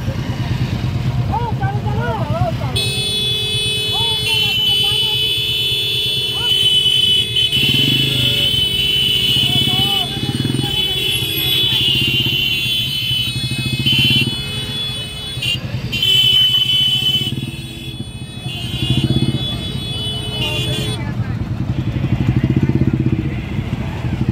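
A traffic jam at a crowded Makar Mela fair brings a steady din of motorcycles and cars idling and revving nearby, with people talking throughout.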